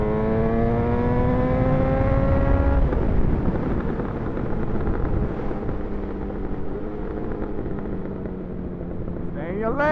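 A motorcycle fitted with a full exhaust revs loudly and close by, a strong rising engine note easing into a steady drone with wind buffeting the microphone.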